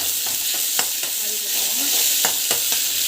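Onions sautéing in a pan while cooking a simple home meal, a steady sizzle with a few light scrapes and stirs of a utensil against the pan, close by and with no talking.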